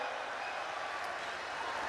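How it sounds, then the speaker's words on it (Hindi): An audience at a Hindi poetry event claps in steady, even applause, a dense wash of hand claps at moderate volume with no talk over it. "ताली बजाओ मिलके"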